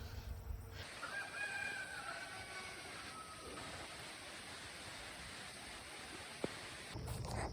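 A rooster crows faintly in the distance over a steady outdoor hiss in a small permaculture garden, then only the background hiss remains.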